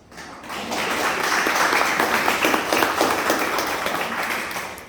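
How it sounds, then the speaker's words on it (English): An audience of students applauds during a school address at a college in Durban, the clapping swelling in quickly, holding as a thick, steady roar of many hands, then easing slightly toward the end. "So give yourself a big round of applause."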